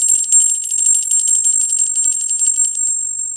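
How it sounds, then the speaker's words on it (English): A new bell received as a Christmas gift rings with a bright, high, sustained metallic tone, struck in a rapid trill of repeated strikes for a few seconds, close and loud with no voices. "How you like that new bell?"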